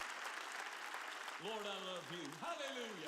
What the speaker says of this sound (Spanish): dale un gran aplauso.